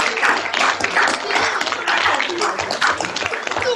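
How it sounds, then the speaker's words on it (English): A live audience gives a loud, sustained round of applause for a Pro Football Hall of Fame gold jacket honoree, with dense, steady clapping filling the whole stretch. "give a warm round of applause to Gold Jacket"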